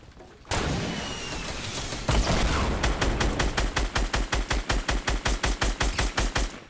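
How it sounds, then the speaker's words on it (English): Enemy gunfire in a video game, starting with a sudden dense roar of shooting that turns into a long rapid, evenly spaced burst of automatic fire, loud and close. "Where are they shooting us from, Avery?"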